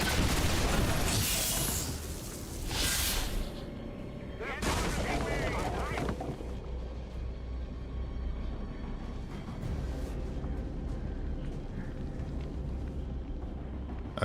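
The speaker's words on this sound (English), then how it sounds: "use the missiles." Missiles launch in the XCOM 2 strategy game, two heavy roaring blasts early on followed by rumbling detonations and lingering debris noise, sustained and loud across the span.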